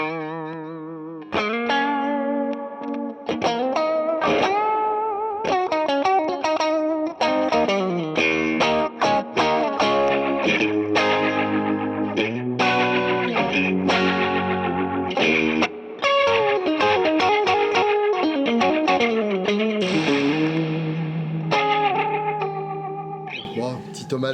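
Electric guitar played through a pedalboard with spring reverb, loud and close, with driven, echoing phrases and bent notes running almost continuously with only brief pauses.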